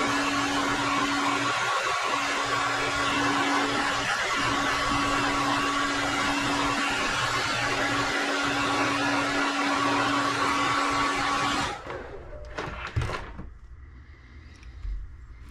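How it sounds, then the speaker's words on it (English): Loud, constant blowing whir of a heat gun heat-setting airbrushed paint on a golden shiner paint job, running steadily for about twelve seconds before switching off, followed by a few small clicks and handling knocks. "let me heat set this quickly"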